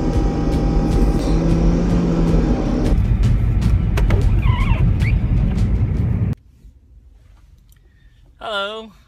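A car drives along a snowy road, its steady broadband road and engine rumble filling the first six seconds before cutting off abruptly, leaving a quiet interior with a brief distant voice.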